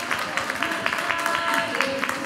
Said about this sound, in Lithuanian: Tai dar kartą didžiausi plojimai visai šitai komandai, kuri nuo Biržų atvyko.